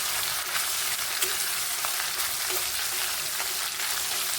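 A ground masala paste for village-style chicken rassa sautéing in a pan, a continuous close, even sizzle with soft crackles and no talk.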